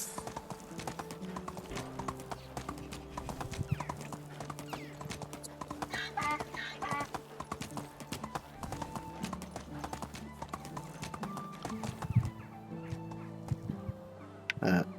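Horse hooves clip-clop steadily through a video game scene, a close, continuous trotting rhythm with occasional animal calls and game sounds mixed in.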